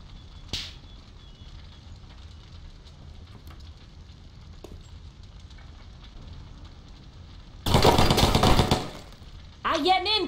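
Burst of gunfire in the turn-based tactics game Silent Storm, a dense loud volley lasting about a second late on, followed by a brief sharp crackle, after a long quiet stretch with faint talk.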